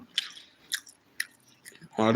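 Four crunchy bites and chews of a fried chicken leg, close and spaced about half a second apart, followed by a voice starting to speak.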